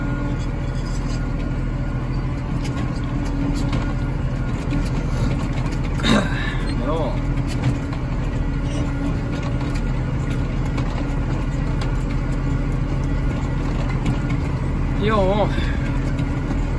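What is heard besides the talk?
Case IH Magnum tractor's 8.3-litre Cummins engine running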